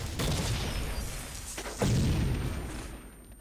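Dragon Tail gun in the XSHOT shooting game firing four-round bursts, dense booming blasts layered with crackling explosions and a rumbling wash, loud and continuous with no clear talking.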